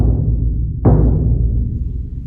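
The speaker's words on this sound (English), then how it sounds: "Now I'm going to strike the drum in the center," A towel-muffled bass drum hit squarely in the center gives one punchy, articulate thump, following a low lingering resonance from an earlier stroke, then decaying quickly with no voices.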